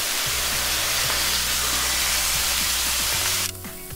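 A smash burger and onions sizzle loudly on a hot griddle after pressing, a steady bright hiss that holds for several seconds, then drops abruptly near the end with some faint clinks underneath.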